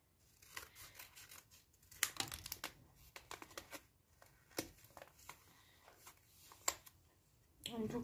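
Scissors snip herbs close by, a quiet run of irregular sharp cuts and crinkles with a soft rustle of leaves between them.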